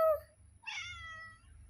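A domestic cat gives a short, clear meow up close, a single rising-falling call after a brief sharp onset, in a quiet room.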